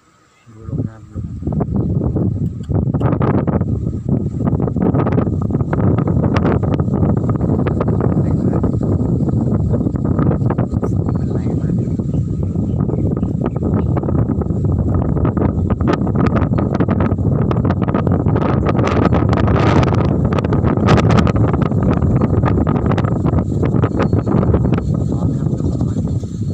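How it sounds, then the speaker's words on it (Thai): Strong wind batters the microphone steadily and loudly for almost the whole stretch while a kite is flown outdoors, with a faint voice somewhere underneath. "ลมแรงมาก"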